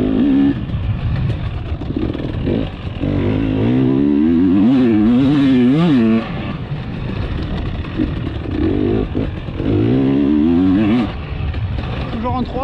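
A vehicle engine runs in third gear without the clutch being touched, its pitch rising and falling through revving sweeps, loud and close, with someone talking over it.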